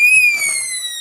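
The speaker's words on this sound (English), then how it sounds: "Otherwise, the horn strobe would be insanely loud and bright." A fire alarm horn strobe in a simple home-built fire alarm system with a pull station, powered by a 9-volt battery, lets out a loud, shrill, slightly falling electronic tone lasting about a second.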